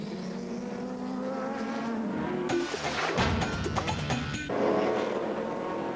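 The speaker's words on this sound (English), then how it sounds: "Well, Campbell Walter, as the race is restarted, leading." FIA GT race cars in a 2003 race accelerating hard as the race restarts, engines building from a distant drone into a loud close roar as cars pass, with a brief rasp of tire noise.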